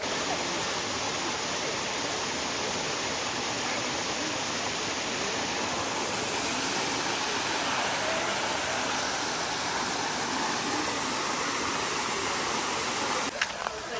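Ermai waterfall at Dharmasthala roars as a continuous dense rush of falling water, loud and close, holding steady throughout.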